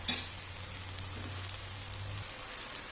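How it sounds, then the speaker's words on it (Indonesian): Meat frying for capcay in a pan, a steady close sizzle with a brief clatter at the start and a low hum that stops partway. "kita kasih masak dulu dagingnya ya"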